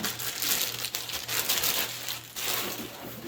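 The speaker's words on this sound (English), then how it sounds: "this little plastic bag here that it's put in." Thin plastic bag from an Orange Crush Mini amplifier's packaging crinkles and rustles in quick, close bursts over a low steady hum, with no talk.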